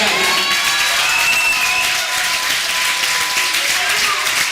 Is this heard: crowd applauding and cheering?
yes